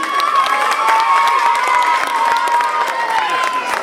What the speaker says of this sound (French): applaudissements pour Christian